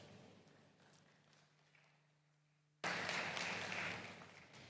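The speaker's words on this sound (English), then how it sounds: "A round of applause, ladies and gentlemen." Applause from a conference audience at a fintech week event breaks out suddenly partway through, loud and broadband after a quieter stretch of room noise with a low hum.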